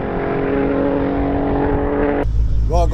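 Inside a Nissan GTR, the engine holds a loud, steady drone with a tonal whine, then the pitch drops abruptly, and a voice starts talking at the end.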